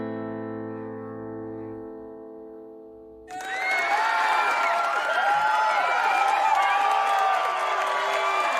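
A large crowd cheers, whoops and applauds loudly after a held electronic tone fades out, the roar sustained and dense to the end.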